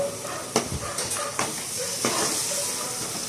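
Pieces of quail sizzle in a hot pan with a continuous bright hiss. A few scraping clanks of a spoon stirring them stand out now and then.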